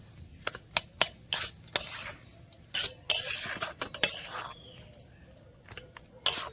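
A spoon stirs and scrapes a spiced potato filling with chilli and coriander in a pan, giving a series of sharp metallic clinks and scrapes at uneven intervals, moderately close with no talk.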